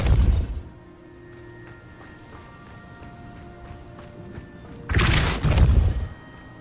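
A Depulso force spell is cast in Hogwarts Legacy: a sharp, heavy thud at the start, a quiet low hum, then a second, louder blast of crashing, thumping impact near the end.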